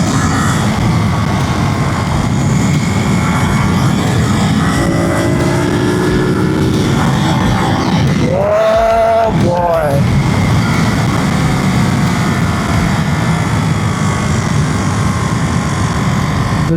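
A Ducati Monster naked sports bike's engine hums steadily and loudly throughout, with a brief swelling pass or rev change midway.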